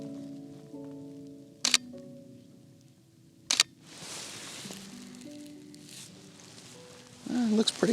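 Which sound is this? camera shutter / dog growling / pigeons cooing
camera shutter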